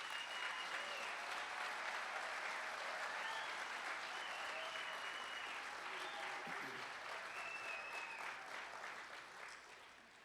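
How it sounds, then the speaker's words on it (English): A crowd applauds at the grand opening ceremony of Desert Diamond Casino West Valley, with dense sustained clapping that fades slightly toward the end. "So give a round of applause for Chairman Joaquin."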